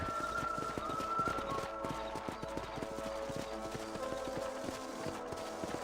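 Steady, rapid hoofbeats of a galloping horse in the video game Red Dead Redemption continue throughout, loud and close, with no talking.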